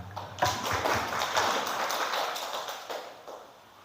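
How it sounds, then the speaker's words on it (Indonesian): Applause from a small group of teachers in a training session, a short burst of clapping with audible individual claps that swells, then thins and fades toward the end. "tepuk tangan"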